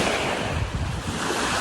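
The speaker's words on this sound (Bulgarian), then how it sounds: "просто се излезе вятър, лекичък е, лека вълна" Light sea waves wash onto a beach on Contadora island in Panama as a light wind blows, a steady close rushing surf mixed with wind buffeting the microphone, with no voices.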